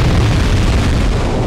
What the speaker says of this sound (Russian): Нужно, чтобы ты вот эту бочку взорвал.